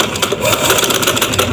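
A sewing machine runs steadily while stitching ready-made dori piping onto fabric, its close, continuous motor whir and rapid needle chatter filling the whole short stretch without pause.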